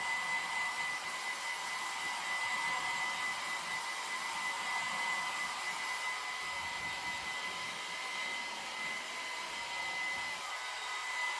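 Hair dryer on low heat drying a damp transfer, a constant close whooshing airflow with a steady high whine, unbroken for the whole stretch with no talk.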